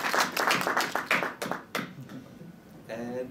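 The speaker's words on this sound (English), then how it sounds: "You guys have probably given them a round of applause already" Audience applause at a panel discussion on justice, a short burst of scattered hand claps that thins out after about two seconds, fairly quiet, with a voice coming in at the end.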